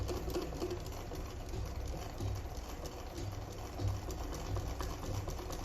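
A sewing machine runs steadily while stitching down both sides of a sleeveless gown with a 1/4 inch seam, a continuous close mechanical whir with faint rhythmic pulses throughout.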